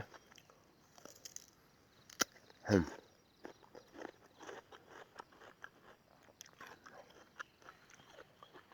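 A single loud, crisp bite into a crunchy Kimju guava fruit, followed by quieter intermittent chewing and small crunching sounds, close to the microphone with no speech.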